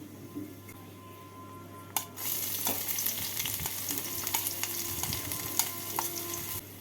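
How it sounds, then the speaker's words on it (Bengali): Chopped garlic, six cloves, drops into hot oil with cardamom and cinnamon tempering and bursts into loud sizzling, followed by irregular clinks and scrapes of stirring in the pan. "রসুনের কুচি দিয়ে একটু নাড়াচাড়া করে নিচ্ছি"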